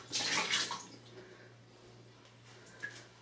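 Water splashes into a Silex 2-cup glass coffee maker in one brief, fairly soft pour at the start, then fades to a quiet hum with a faint drip or clink near the end.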